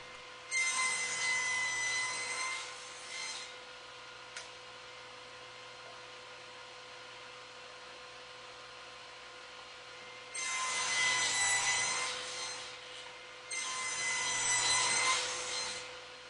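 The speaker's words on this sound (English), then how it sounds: "Now cutting the tenons on both sides of my apron rails." Handsaw cutting tenons on wooden apron rails for a small table, with three bursts of rasping back-and-forth strokes separated by a long quiet pause, close and clear.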